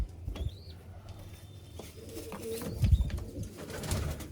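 Pigeons fed roti coo softly nearby, with low throaty murmurs, light pecking patter and faint rustling movement.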